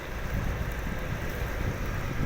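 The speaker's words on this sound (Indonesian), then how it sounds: "Ini ada angin kencang yang menyebabkan pohon-pohon rumpuh" Strong wind gusts through a village where trees have fallen, roaring steadily and buffeting the microphone in a dense, unbroken rush with no voices.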